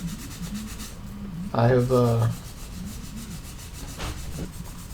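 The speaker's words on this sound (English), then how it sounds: "let's take some 1000 grit sandpaper, which really isn't sanding anything off. It's just buffing essentially the pads." Buffing the contact pads of an SNES with 1000 grit sandpaper, giving one short, close scratchy rub of under a second amid quiet background and brief talk.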